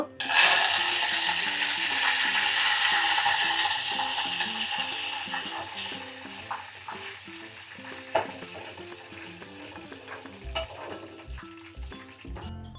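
Loud, steady sizzling of dried red chillies and curry leaves frying in hot oil, with occasional stirring clatter and music playing softly underneath.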